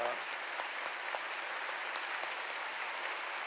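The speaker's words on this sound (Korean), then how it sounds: "이제 오늘 이렇게 귀한 말씀 전해주신 장마오송 목사님께 감사의 박수를 드리겠습니다" A church congregation applauds the pastor after a sermon, a sustained, even roar of many hands clapping, fairly faint and distant, with a few crisper claps poking out of the crowd sound.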